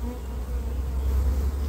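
Honeybees crawl over a brood frame, a soft continuous buzzing hum under a low steady rumble, close and even for a moment.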